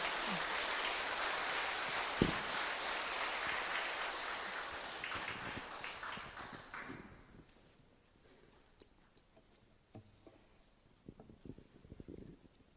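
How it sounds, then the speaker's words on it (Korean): A church congregation's applause welcomes a priest to the front, a soft, even wash of many hands lasting several seconds before fading into quiet room noise with scattered small knocks and rustles. "박수로 맞이해 주시기 바랍니다."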